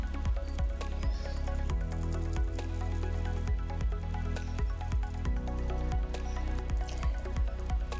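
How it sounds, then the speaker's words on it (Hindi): Jackfruit pieces fry in a pan while being stirred, a steady oily sizzle broken by regular scraping spatula strokes about twice a second, close and moderately quiet, with no voices. "बस ऐसे चलाते हुए इसे अच्छे से फ्राई कर लेंगे"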